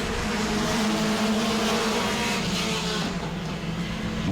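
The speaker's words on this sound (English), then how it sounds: "Cars shuffling all over the place for fourth on back." Mini stock race cars roar around the Auburndale track, several engines blending into a loud, continuous, slightly wavering drone that holds steady from start to finish.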